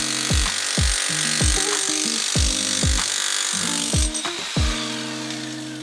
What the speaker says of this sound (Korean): 글라인더를 사용해 균열을 내주고 난 후 해머드릴을 사용해 보부분 철거 작업을 진행해줍니다.